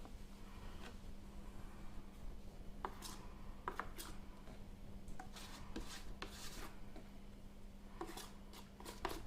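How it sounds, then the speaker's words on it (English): A chocolate mould is shaken hard to knock excess chocolate out, giving quiet, irregular rattling knocks and scrapes at close range with short pauses between bursts. "Just giving it a really good shake just to get a lot of the excess chocolate out"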